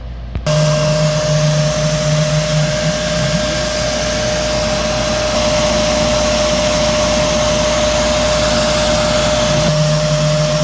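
A Shark CarpetXpert EX201 carpet cleaner runs at full power for an airflow test, producing a loud, steady motor roar with a fixed whine that holds unchanged for about ten seconds after switching on.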